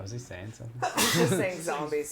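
A single loud, close sneeze bursts out in the middle of casual talk between people.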